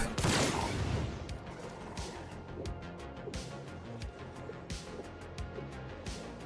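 Video game gunfire erupts in a loud opening volley, then continues as scattered sharp shots and crackling bursts over a busy battle backdrop.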